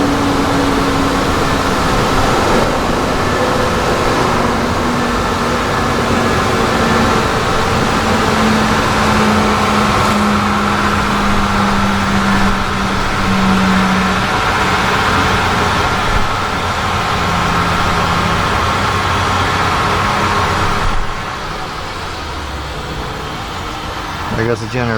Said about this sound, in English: There goes the generator. Hear it cycling down.